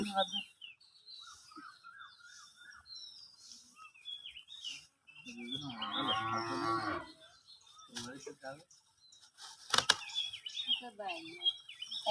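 Cattle on a farm mooing up close, one long resonant low from a calf or cow midway, with birds chirping around and brief bursts of people talking nearby.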